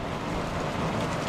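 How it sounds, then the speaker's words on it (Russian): Heavy rain shower pouring down at a country dacha during a thunderstorm, a dense, steady roar of rainfall that stays loud and unbroken throughout. "У нас начался сильный ливень."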